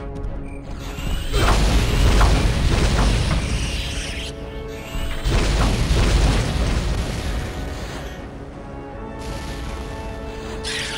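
Rocket launcher explosions in the game Turok 2: Seeds of Evil, with two long, loud, rumbling booms one after the other and a third smaller blast near the end.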